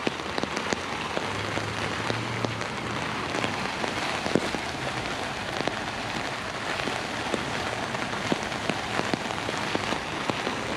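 Steady rain falls on the grounds of the Palace of Fine Arts in San Francisco, a continuous even patter with scattered closer drops, no voices.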